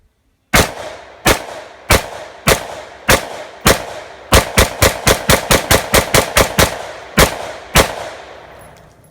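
A rifle fitted with an STNGR HWK M-LOK handguard fires about twenty loud, sharp shots outdoors, first at a slow, even pace, then in a faster run of rapid shots, with slower shots at the end.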